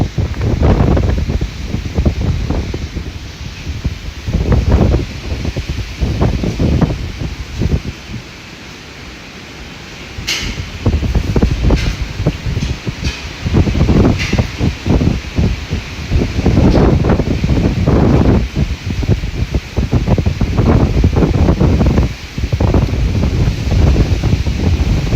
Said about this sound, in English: So we're getting little gusts here,